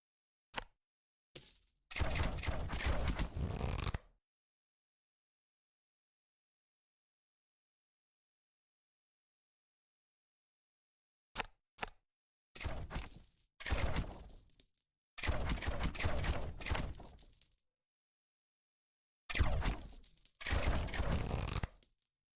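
Mortar rounds fire in a video game: short isolated thumps, then several loud, sharp bursts with crackling tails, separated by stretches of silence.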